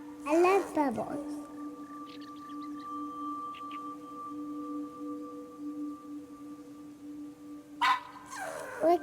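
In the video game That Dragon, Cancer, the dog Manju lets out high, wavering whimpers and whines at the start and again near the end, over a sustained tonal music drone.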